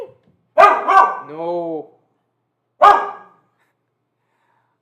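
A pet dog indoors gives two sharp barks followed by a drawn-out whining yelp, then one more bark after a pause, loud and close; a person briefly speaks.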